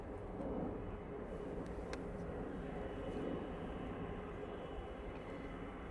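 A Juneyao Airlines airliner arriving from Shanghai comes in to land at Manchester Airport with its gear down, giving a steady, broad jet roar that swells slightly and holds throughout, heard from a distance.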